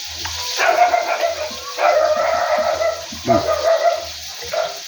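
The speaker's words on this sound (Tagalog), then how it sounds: "May tumahol na." A dog barks and yips in several short bursts amid background noise, with a voice speaking briefly between the barks.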